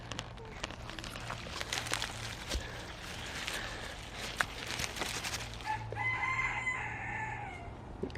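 Roosters crow in a summer garden, loud calls rising over steady clucking and farmyard background, with a faint voice in the mix.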